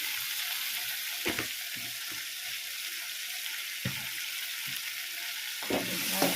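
Food dusted with turmeric fries in a pan with a steady bright sizzle, broken by a few clunks of stirring or moving pieces around, heard alone.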